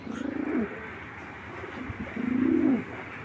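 Two low, throaty coos from a nearby pair of large racing pigeons, one early and a longer one later, over a soft background hiss.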